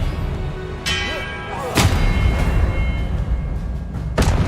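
Spell blasts from the Hogwarts Legacy video game, Incendio and Expelliarmus, burst out as several loud booming impacts over a dense, rumbling battle backdrop.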